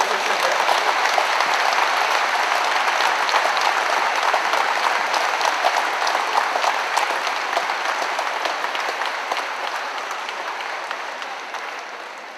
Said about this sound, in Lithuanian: Dar kartelį plojimai Lietuvos Respublikos ministrui pirmininkui Algirdui Butkevičiui